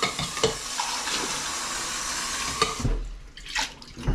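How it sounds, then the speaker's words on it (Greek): Water runs and splashes into a shaker for a whey protein shake, a steady close rushing pour that tapers off into a few lighter splashes and knocks, with no talking. "Νερό."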